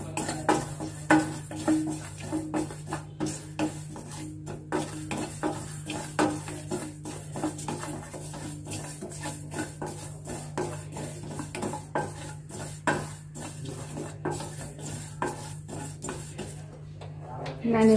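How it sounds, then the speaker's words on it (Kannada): Cumin seeds dry roasting in a pan as a spoon stirs them, with continuous scraping and clinks of metal against the pan over a low hum, steady and close throughout. "1 ಚಮಚ ಜೀರಿಗೆಯನ್ನು ನಾನು ಹಾಗೆ ಡ್ರೈ ರೋಸ್ಟ್ ಮಾಡ್ಕೊತಾ ಇದ್ದೀನಿ"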